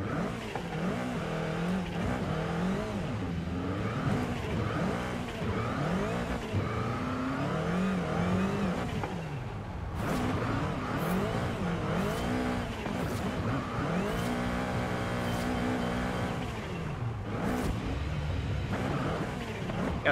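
A drift car in Forza Horizon 5, Ryan Turk's car, revs hard and continuously, engine note rising and falling through gear changes with bursts of tire squeal, loud and close with no talking.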